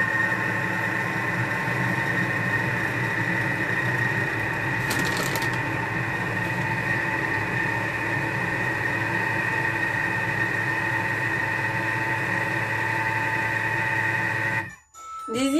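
Food processor remixing almond cream for a galette des rois at speed 4, a steady close motor whir with churning hum lasting about fifteen seconds, then a clunk as it stops.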